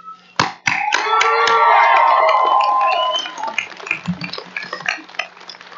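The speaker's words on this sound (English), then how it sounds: "Please give a robust cheer and a round of applause for their continued support" A Klamath Community College graduation crowd bursts into loud cheering and whooping with applause, a sustained roar that swells then breaks into scattered claps and fading shouts.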